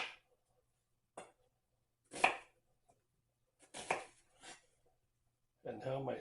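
A knife cuts through an onion on a board in a few sharp, separate chops spaced over several seconds, close and crisp against near silence, with a brief voice at the end.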